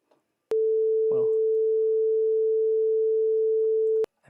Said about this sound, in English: we will have a sine wave for all of time if we chose to leave it on for all of time